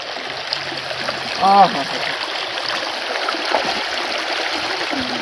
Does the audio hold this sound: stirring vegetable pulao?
no